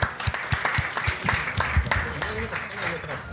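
An audience at a live Christmas horror storytelling event claps for a young woman volunteer, giving a brief burst of dense applause with sharp individual claps, close and moderately loud, with a voice talking over it.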